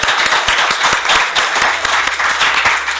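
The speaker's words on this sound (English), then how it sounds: "So please join me in giving a big applause" Audience applause for panel speakers at the close of a post-war order conference session: dense, steady clapping from a room full of people, loud and continuous with no talk over it.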